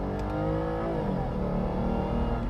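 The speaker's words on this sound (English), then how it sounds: "I love the sound of this engine." A Lexus IS250 with a naturally aspirated 2.5 liter V6 accelerates, heard from inside the car as a steady, loud engine note climbing smoothly with no talking.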